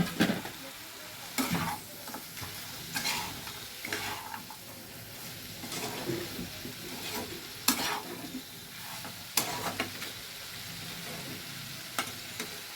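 A spoon works through lentil dumplings with potatoes and fenugreek greens in a pan, giving soft scraping strokes at a steady pace over a low sizzle. Sharper clinks mark the louder strokes, with no voices.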